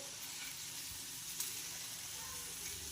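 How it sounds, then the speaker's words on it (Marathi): Okra (bhindi) frying in a pan gives a steady, close sizzle with a soft crackling hiss throughout and no talking. "अशा प्रकारे आपल्याला भेंडी छानपैकी फ्राय करून घ्यायची आहे"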